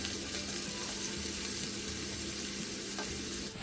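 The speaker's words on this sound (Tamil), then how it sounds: "வெங்காயம் நல்லா எண்ணெயில் வதங்கிடுச்சு" Large onions sauté in hot oil for a Kerala-style sardine (mathi) fish curry, a steady close sizzle and crackle with faint stirring, no voices.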